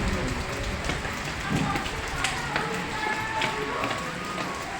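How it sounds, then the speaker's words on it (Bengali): Steady, dense monsoon rain from a low-pressure system pouring down, with a constant wash of drops and occasional sharper splashes nearby. "তো তোমরা শুনতে পেলে এটা হচ্ছে নিম্নচাপের বৃষ্টি"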